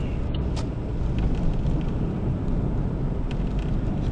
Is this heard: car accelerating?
yes